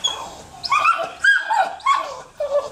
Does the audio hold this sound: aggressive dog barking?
yes